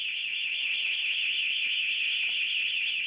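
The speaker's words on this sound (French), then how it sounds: "il va tenter de neutraliser à distance une alarme installée dans cette maison" A house burglar alarm sounds with a steady, piercing high electronic tone, loud and unbroken throughout with no talking.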